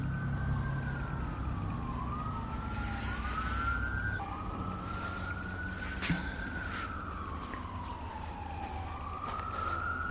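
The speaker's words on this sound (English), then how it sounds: "the sirens are a video killer" Wailing emergency sirens rise and fall continuously, fairly loud and a short distance away, with traffic rumble and a few clicks underneath.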